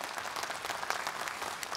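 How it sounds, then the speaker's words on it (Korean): Audience applause at the 2014 Jeonju MBC Lions service awards ceremony, a dense, steady wash of many hands clapping throughout with no break, filling the hall at even loudness. "네, 다시 한번 큰 박수 부탁드립니다."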